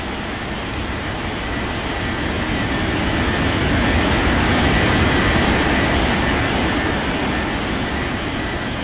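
A DHL cargo jet takes off from runway 35, its engines a loud, steady roar that swells and holds through the whole stretch with no talk over it.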